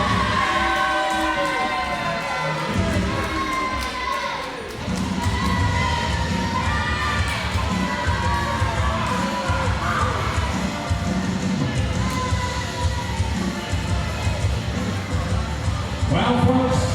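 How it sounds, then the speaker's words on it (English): A live wrestling crowd at a WrestleForce grudge rematch in Aylesbury keeps up a loud, continuous roar of shouting, jeering and mixed voices that carries through the whole stretch with no pause. "The crowd don't like it."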